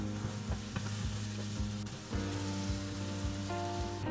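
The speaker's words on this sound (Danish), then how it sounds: "Når man steger champignoner, så har det ikke nogen betydning, om panden er kold eller varm" Mushrooms fry in a pan with a steady, close sizzle and crackle, broken by a few scraping stirs, with no talking.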